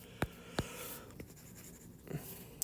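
A marker squeaks out a few short, faint strokes as a line is highlighted in green during a math review, quiet and isolated with no talking.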